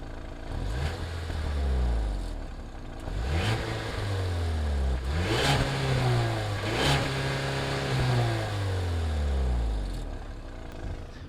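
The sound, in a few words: 4-cylinder turbo SUV engine revving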